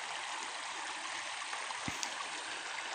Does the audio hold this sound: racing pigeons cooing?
no